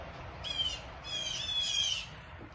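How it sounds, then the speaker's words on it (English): Birds let out two bursts of harsh, grating squawks, the first short and the second longer, fairly close and loud over a quiet room. "We're just going to try to ignore the birds."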